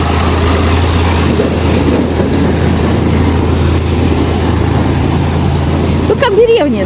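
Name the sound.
street cleaning tractor driving past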